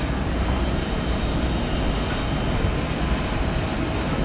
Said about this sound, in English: Planes coming through.